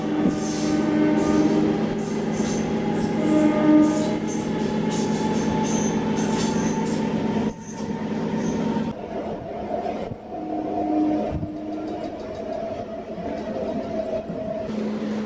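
A Vijayawada–Ongole MEMU train running just after leaving Bapatla, with a continuous rumble and rattle of wheels and a droning tonal hum, and a brief drop in level partway before the clatter resumes.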